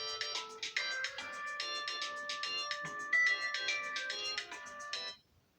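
A mobile phone ringtone plays a bright, rapid melodic pattern of repeating notes for about five seconds, fairly close and clear, then cuts off abruptly with no talking over it.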